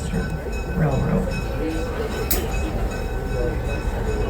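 The Steamtown passenger train rides out of Scranton, Pennsylvania, giving a continuous loud rumble and rattle heard from on board, with a faint clink and a brief squeal, while someone narrates over it.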